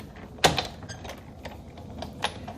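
A hand-cranked card cutting machine being turned, with one sharp mechanical clack followed by lighter clicks and rattles, close and without talk.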